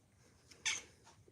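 A cat gives a single short, high squeak midway through an otherwise quiet room, close by and brief.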